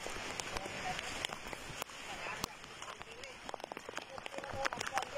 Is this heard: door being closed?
no